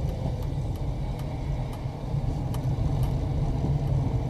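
A car rolls slowly down a residential street, with a steady low engine and road rumble that stays constant throughout and no voices.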